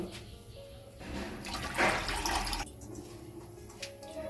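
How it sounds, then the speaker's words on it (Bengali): Water pours into a cooking pot for boiling chopped banana flower, a steady rushing splash that swells for about a second and then fades, heard fairly close. "দেখুন একটি পাত্রের মধ্যে দিয়ে দিচ্ছি জল"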